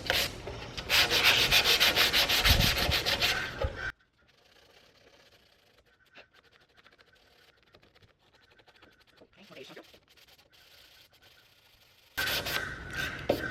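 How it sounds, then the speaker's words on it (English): Sandpaper scrubs white chalk paint off a metal cubby shelf in loud, close rubbing strokes, followed by a long quiet stretch with faint handling, then the scraping returns. "I'm gonna just sand a little bit off of the white to get some beige showing through."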